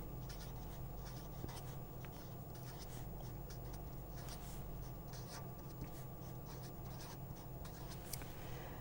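A lecturer writes out an equation for a magnetic dipole, producing steady, faint scratching strokes that continue without pause in a quiet room, with no talking.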